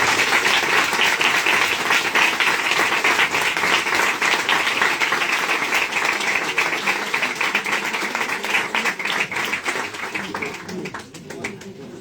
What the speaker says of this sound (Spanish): un grandísimo aplauso, por favor.